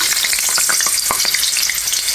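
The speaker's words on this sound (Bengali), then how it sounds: "এখন আমি তেলের ভিতরে আলুটা দিয়ে দেব," Large cut potato pieces drop into hot oil and fry with a loud, dense sizzle, full of rapid crackles and pops close up, continuous and without any speech.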